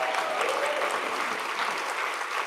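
An audience at the 2024 South African Startup Awards claps for the host's wife, giving a full, even round of applause that stays steady throughout.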